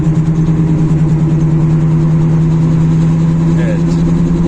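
Steady, loud drone of a car with a faulty wheel bearing (front hub bearing fault) while the steering is turned left, a continuous low hum running unbroken throughout.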